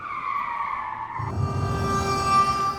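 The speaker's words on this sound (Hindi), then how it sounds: "उसने गाड़ी को ब्रेक लगाया" A car brakes and its tires squeal into a skid as it slows to a stop, a steady screech lasting a couple of seconds over engine noise, fairly close.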